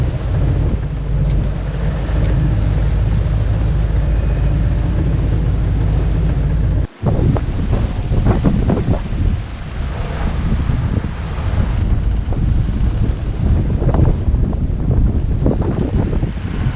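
Strong wind buffets a sailboat rocking hard in wind-against-tide seas off the coast, a steady loud roar with low rumbling and sloshing water, growing more turbulent and gusty in the second half.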